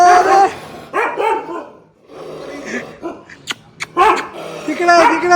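A dog barks in a few loud, close yips and bow-wows amid an outdoor office gathering, with people talking excitedly around it and overlapping the barks.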